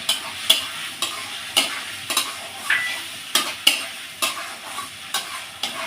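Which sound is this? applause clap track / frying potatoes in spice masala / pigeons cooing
frying potatoes in spice masala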